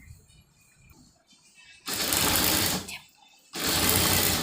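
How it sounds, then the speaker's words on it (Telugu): A sewing machine stitches the cloth edges of a cut-work blouse. Two loud, sustained runs of rapid stitching are split by a short pause, after faint quiet handling sounds at the start. "దానికి సరిపడే క్లాత్ తీసుకొని ఇట్లా చివర్లు కుట్టుకురావాలి"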